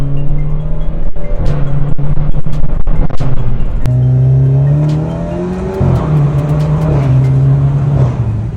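An Alfa Romeo Giulia 2.0T turbo engine pulling hard under acceleration, heard from inside the car, its loud droning tone rising through several gears with a sharp break and pop at each paddle shift.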